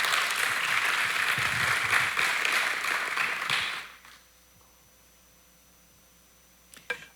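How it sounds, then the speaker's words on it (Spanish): A church congregation bursts into loud sustained applause during a Spanish-language sermon, which fades out over a few seconds into near silence, followed by a faint thump. "Un aplauso para el Señor."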